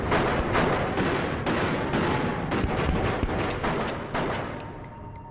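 Dense, loud gunfire from a gangster shootout crackles almost continuously in rapid bursts, with a faint high tone near the end.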